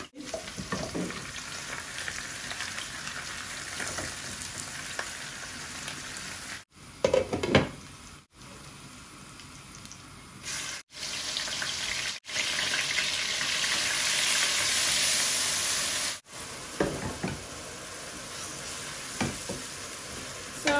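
Onion and garlic sizzling in hot oil as a tempering for aair fish curry with potatoes, a steady, loud, close frying hiss that surges and eases with occasional stirring clatter and brief cuts.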